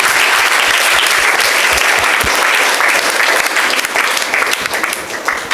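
An audience claps loudly and continuously at a school Independence Day celebration in Thiruppathur, giving a dense, sustained round of applause that eases off slightly toward the end.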